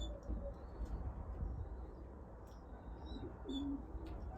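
Young racing pigeons in a loft on a cold winter day give soft, low coos. A few quiet calls sit under a steady background rumble.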